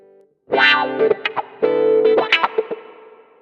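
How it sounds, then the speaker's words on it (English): An electric guitar with an auto-wah sweeping filter effect, distorted phrases of plucked notes with vowel-like tonal swells, two bursts separated by a brief pause. "And next up is wah-wah."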